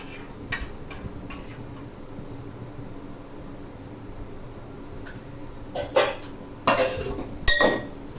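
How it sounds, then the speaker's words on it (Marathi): Masala soybean rice is stirred in a pan, quiet at first, then a cluster of close metallic scrapes and clinks from the spoon toward the end, with no talking. "थोडं हलवून घ्यायचं आहे."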